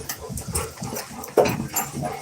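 A dog whimpers and snuffles close by in a home, making soft, uneven whines and nasal sounds with a couple of sharper yelps toward the end.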